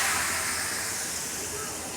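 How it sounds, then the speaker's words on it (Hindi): Hot tadka tempering poured into kadhi gives a loud, close, continuous sizzling hiss that fades slightly over two seconds. "तो यहाँ पर लगा दिया मस्त सा तड़का"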